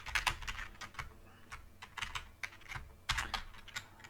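Keys clatter on a computer keyboard while entering an Excel formula, quick irregular bursts of close clicks with short pauses between, and no voices.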